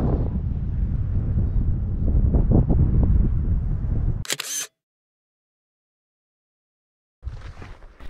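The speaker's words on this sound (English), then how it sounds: "Wind rushes through the pass" Wind gusting across a high mountain pass in the North Cascades, buffeting the microphone loudly with a steady low roar, then a brief hiss, a stretch of silence, and the rushing wind returning near the end.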